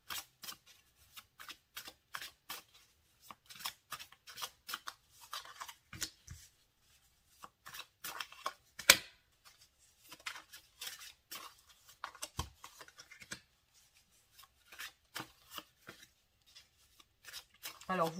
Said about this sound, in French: vous pouvez passer le moment où je pose les cartes